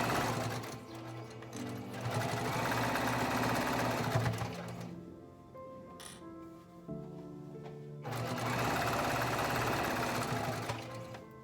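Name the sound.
sewing machine stitching a bowl koozie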